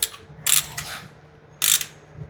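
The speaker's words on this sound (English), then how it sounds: "Got our ratchet." A hand ratchet clicks in two short, close bursts of pawl ratcheting while tightening the transmission plug on a Nissan Navara D40, with no talking.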